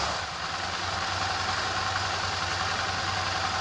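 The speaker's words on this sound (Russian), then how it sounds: "Мы решили, что это может быть вибрация от двигателя мотоцикла." A Suzuki V-Strom 650 (DL650) motorcycle engine idles steadily, a continuous close, loud drone with a low, even throb and a broad hiss, with no talk.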